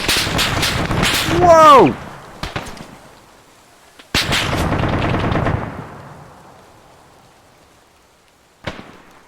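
Gunfire in the video game Arma 3 cracks out in a few sharp shots, one burst of reports followed by a fading echo and a lone later shot, while a player talks and exclaims over it.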